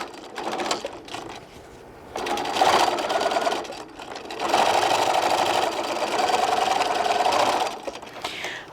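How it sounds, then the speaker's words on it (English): A sewing machine back stitching a fabric seam on a tie-top gift bag, running in several steady whirring bursts separated by short pauses, close and clear. "back stitching."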